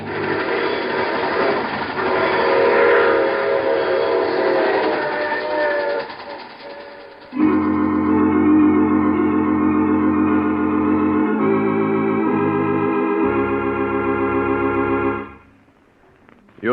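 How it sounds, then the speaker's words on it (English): A train sound effect in an old radio drama: the rumble of a moving train, then a loud, sustained multi-tone whistle that blares for several seconds and fades out, with no voices. "I take this same train every week at this time."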